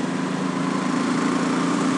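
Engine of a 2007 Honda Sabre 1100 motorcycle while riding: a close, loud, continuous drone with a low, pulsing rumble that holds steady for two seconds.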